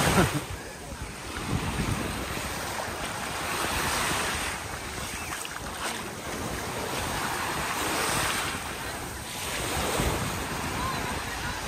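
Waves wash in and out at Ladies Beach in Kusadasi, Turkey, a broad roar of surf swelling and fading every few seconds, mixed with steady wind buffeting the microphone, with no clear talk.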